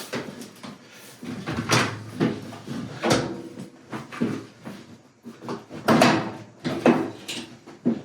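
An Electrolux washer's door shuts and its front panel is lifted during a door boot seal replacement, giving a series of close, irregular knocks, thumps and rattling clunks separated by short pauses.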